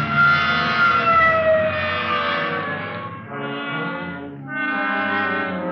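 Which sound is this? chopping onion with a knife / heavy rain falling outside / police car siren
police car siren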